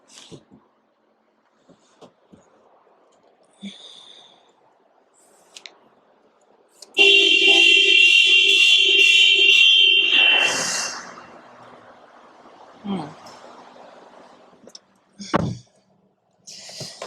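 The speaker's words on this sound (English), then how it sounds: "The alarm might go off." A 2001 Honda Odyssey car alarm, right-hand-drive with 50K miles, sounds a loud steady tone for about three seconds and then cuts off, with quieter clicks and handling noises before and after.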